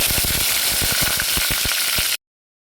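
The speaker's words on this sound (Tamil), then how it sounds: "கடுகு உளுந்தமருப்பு வெந்தயம் போட்டு தாளித்து கருவேப்பிலை போட்டோன்னே" Mustard seeds, urad dal, fenugreek and curry leaves sizzle and pop in hot oil for a South Indian tempering, a loud, dense crackle with sharp spattering bursts that cuts off abruptly.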